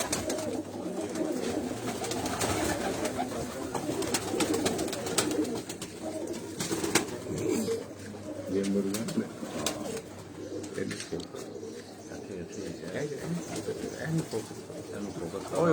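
Breeder pigeons cooing inside lofts, repeated soft coos from several birds close by, with faint background noise and occasional chirps; a person speaks briefly in the background.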